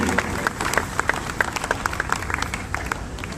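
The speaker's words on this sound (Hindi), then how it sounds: "जोरदार तालियों से इनका स्वागत कीजिए हम सबके बीच में" An audience at a 15 August celebration at a defense and sports academy claps to welcome a guest, loud and close. Sharp individual claps stand out in an uneven rhythm over a steady bed of applause.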